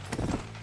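Horse hooves clip-clop in a Western-style video game, a few quick, soft thuds in an uneven rhythm, faint and brief.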